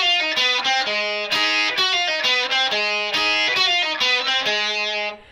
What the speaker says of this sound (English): they have the guitar overdriven, either with an overdrive device or a fuzz box